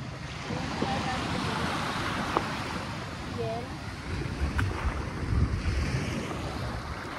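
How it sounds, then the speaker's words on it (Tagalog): Sea waves wash onto a beach near Virac, Catanduanes, a steady broadband surf roar with gusts of wind buffeting the microphone, continuous and fairly close throughout. "Ito lang ang malapit na dagat sa Virac, Catanduanes."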